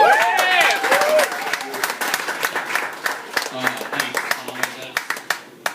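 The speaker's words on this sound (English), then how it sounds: "Big round of applause, everybody, for Angus Wright, everybody." Clapping and scattered cheers rise from a comedy club audience at a Pride show as a comedian is introduced, the applause thinning into sparse individual claps while a voice speaks over it.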